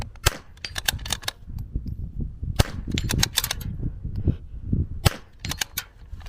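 A .22LR Zermatt Rim-X bolt-action rifle fires a series of sharp, fairly close shots at NRL22 match targets, several in quick succession, with a faint metallic ring after some hits and no talk.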